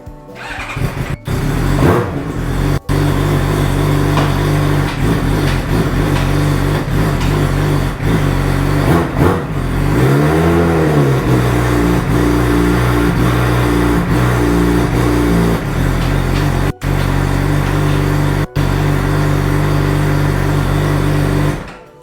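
A Suzuki GSX-R600 (2015) motorcycle with an HM quickshifter revs hard and steadily, broken by several sharp momentary ignition cuts as the shifter is flicked in 6th gear, with a brief rising and falling rev in the middle.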